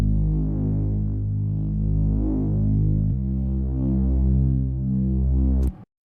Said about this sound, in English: so for this Reese bass, it's pretty simple.